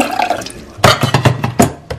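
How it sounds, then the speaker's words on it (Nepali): About 200 ml of water is poured into washed rice for sweet sticky rice, close and loud, arriving in several splashing bursts with short pauses between them. "अब यसमा चाहिँ 200 ml पानी हाल्ने"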